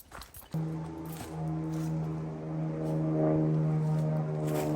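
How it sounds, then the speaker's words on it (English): A low-flying propeller airplane passes close overhead near a mountain cabin, its engine drone rising abruptly and holding as a strong, steady harmonic hum that swells slightly louder toward the end. "There's an airplane."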